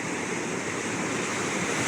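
Ocean surf breaking on a sandy beach on the Greek island of Thassos, a steady continuous wash of waves close by with no voices.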